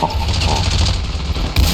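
Gunfire in Ravenfield during an urban beach-landing battle in a Japanese city, with rapid bursts of shots over a dense rumble of battle noise and a sharp, louder blast near the end.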